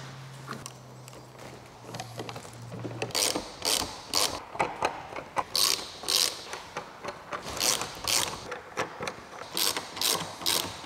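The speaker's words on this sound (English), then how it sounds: "let's start by taking this off from these clamps" Clamps being released from a sailboat lamination mold in a workshop, giving a run of sharp mechanical ratcheting clicks and clacks in quick bursts, close and fairly loud, after a low steady hum at the start.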